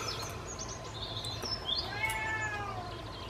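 Cat meowing indoors, a few short, rising mews close to the listener over quiet room background.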